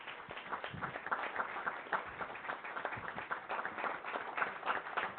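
Audience applause in a city council meeting chamber: steady, dense clapping from a crowd, heard distant and muffled rather than close, holding at an even level throughout.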